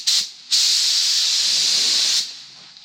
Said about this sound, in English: So we're going to put this clear on now.